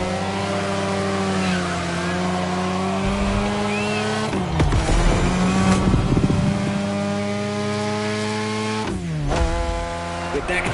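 A race car in The Crew Motorfest drifts through sharp turns, its engine revving hard and shifting in rising and falling sweeps while tires squeal and skid, loud and close throughout.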